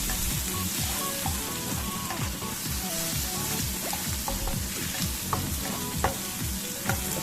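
Shrimp sautéing in a hot pan for shrimp chop suey, a steady dense sizzle and crackle of frying with stirring scrapes and occasional clinks, loud and continuous throughout with no talking.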